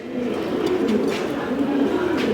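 Fancy pigeons, including Yellow Danish, coo softly and repeatedly at a pigeon farm, low throaty murmurs overlapping in a close, steady stream.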